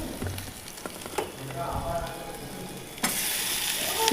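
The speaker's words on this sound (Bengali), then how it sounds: "চিকেনটা তুলে দিলাম।" Chicken pieces sizzle in a pan of frying garlic, onion and green chilli, with a steady crackle and stirring scrapes that jump to a louder, brighter sizzle partway through.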